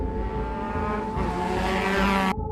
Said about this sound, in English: I could hear motorcycles passing